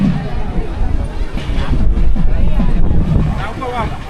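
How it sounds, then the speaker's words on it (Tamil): Wind gusts across an outdoor Hindu temple chariot festival for Kamadchi Amman in Hamm, Germany, a steady low rumble of wind buffeting the microphone beneath a murmuring crowd, with faint voices throughout. "நல்ல காற்றும் அடிக்குது"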